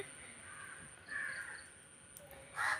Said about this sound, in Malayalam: കാക്കകളൊക്കെ ഇങ്ങനെ ബഹളം വെച്ച് മറ്റുള്ള കാക്കകളെ കൂട്ടുകയാണ്